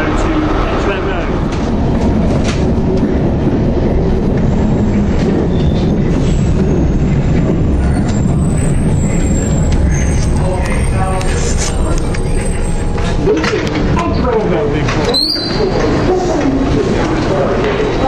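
London Underground train at a platform, a loud continuous rumble and rattle of carriages with a brief screech of wheels near the end, filling the whole stretch.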